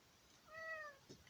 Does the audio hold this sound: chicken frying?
no